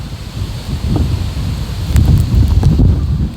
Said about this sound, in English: It's about getting real windy.